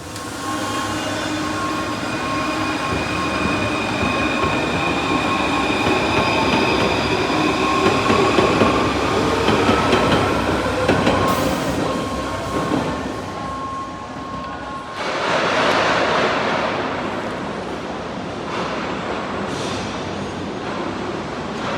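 Train at Gare d'Austerlitz station in Paris rumbling steadily through a busy platform setting, with faint wheel squeal and clattering, a brief drop in noise midway before the loud rolling returns.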